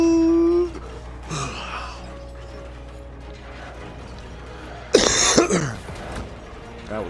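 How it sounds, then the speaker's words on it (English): A single throaty cough bursts out up close over a quiet game soundtrack with a steady low hum, breaking a stretch of near silence. "That was a good productive cough right there."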